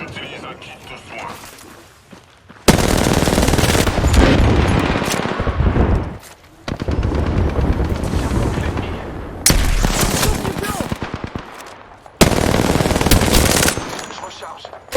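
Gunfire in the battle royale game Apex Legends: long bursts of automatic fire separated by short quiet gaps, loud and close, with a voice speaking French in between.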